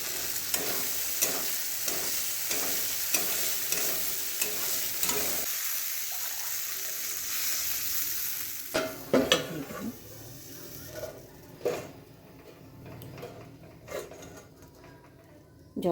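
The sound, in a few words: frying and stirring spices (masala) for tilapia curry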